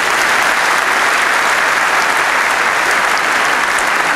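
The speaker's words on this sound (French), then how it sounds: "Vous pouvez l'applaudir très fort, Chloé." Steady, dense applause from a large audience fills the hall at a cycling team presentation at the Vendéspace, loud and unbroken from start to finish with no voices on top.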